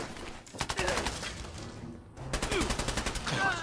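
Rapid bursts of gunfire in the Fallout 4 video game, two quick rattling volleys of closely spaced shots split by a brief pause, loud and near.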